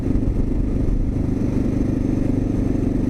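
A 2022 Kawasaki KLR 650 motorcycle engine rumbles steadily at slow neighborhood speed, surging slightly as the throttle wavers, loud and continuous with no voices.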